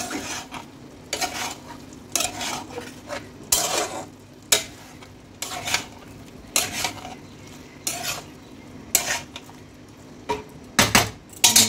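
A spoon scrapes and stirs through pumpkin, ridge gourd and fish head in a pan, in repeated sharp strokes over a low, steady sizzle, close and fairly quiet, with no voices.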